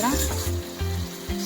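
Whole biryani spices sizzle in hot oil in a pan, cinnamon, cloves, cardamom and cumin crackling loudly and steadily with a few stirring bumps along the way.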